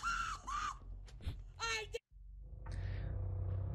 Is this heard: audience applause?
no